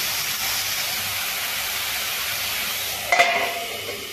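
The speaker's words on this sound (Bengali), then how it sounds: "আমি ঝিঙেগুলোকে একটু ঢাকা দিয়ে ভেজে নেব।" Ridge gourd frying under a lid in a covered pan gives a steady, even hiss of steam and sizzle, with a brief louder burst and clatter near the end.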